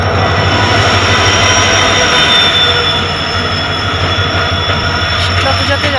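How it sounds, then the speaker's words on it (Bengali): A train pulls in at a station during travel to a Sitala Puja festival in Lumding, with loud sustained wheel squeal and rumbling railcars filling the whole stretch, steady and close. "আর ট্রেন চলে এসেছে।"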